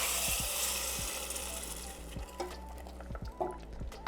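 Canned whole peeled tomatoes tip into a cooking pot for tomato soup with a wet, sizzling slide and a few soft plops and drips, ending in a sharp clink, without speech.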